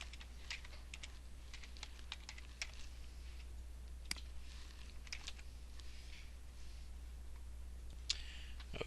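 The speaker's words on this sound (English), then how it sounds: "I will start typing that in." Typing on a computer keyboard, quiet scattered key clicks in irregular bursts with short pauses, over a faint low hum, no talking.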